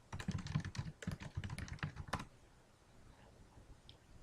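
Spreadsheet title typed on a computer keyboard: a rapid, close run of crisp key clicks for about two seconds, then the typing stops and only faint room noise remains.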